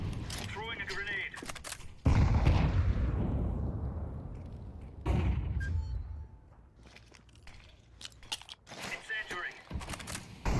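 Grenades thrown in Counter-Strike 2 burst with two heavy, loud blasts a few seconds apart, each trailing into a rumbling decay, amid scattered clicks and game sounds with some voice in the background.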